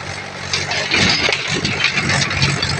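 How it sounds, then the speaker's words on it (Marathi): A tractor engine rumbles nearby with a steady chugging drone that grows slightly louder as it draws closer. "येत आहे ट्रॅक्टर"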